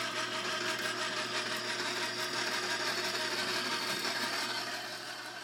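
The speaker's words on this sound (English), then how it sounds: "So I'm going to blend this together" A blender mixes gluten-free, dairy-free banana chocolate chip muffin batter in one steady, close, continuous whir that eases off slightly at the end.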